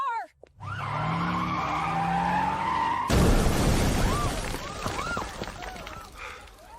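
A car skids hard, its tires squealing in a long shrill slide that ends in a sudden loud impact with scraping and clattering debris, under a tense, dramatic score.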